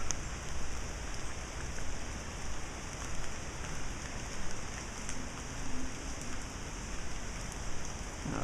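Steady rain falling outdoors in the aftermath of Hurricane Dorian near Lake Moultrie, South Carolina, a constant close hiss of drops on surfaces with no talk over it.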